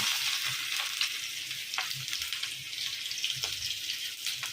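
Cumin seeds, green chili and garlic sizzling in hot oil in a pan, a loud, close, continuous crackling fry with occasional stirring scrapes and no talk.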